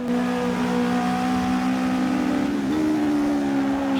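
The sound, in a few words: car engine revving in Assetto Corsa racing video game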